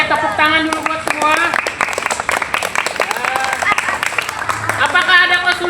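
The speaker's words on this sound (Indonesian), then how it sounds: "tepuk tangan dulu buat semua" A school class claps together at the close of a physical education lesson on rolling, with scattered claps running under lively children's voices that talk and call out throughout.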